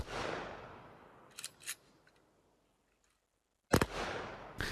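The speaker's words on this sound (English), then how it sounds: "A ceremony was held on October 12th at the Hartman Chapel Church with a 21-gun salute." Rifle volleys of a 21-gun salute at a military funeral at a chapel church, sharp cracks heard as a pair of close reports, then silence, then another loud volley with lingering echo outdoors.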